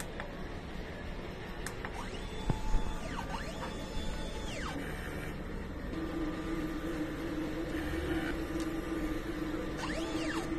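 An inkjet printer with an older print head runs a head cleaning cycle, giving a steady mechanical whir with faint clicks and a rising and falling motor tone, close and moderately loud.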